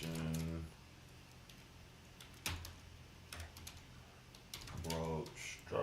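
Computer keyboard typing in short bursts during a futures trading session, clacking keystrokes at the start and end with quieter scattered taps between, under low background sound.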